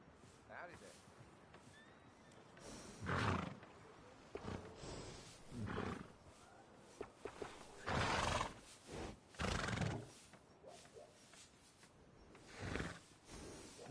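Several horses neigh and whinny in loud bursts, spaced a few seconds apart through the stretch, with faint hoof clip-clop between calls.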